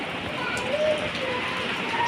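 Rain falls outside in Goa as a steady, even hiss lasting the whole moment, with faint voices nearby.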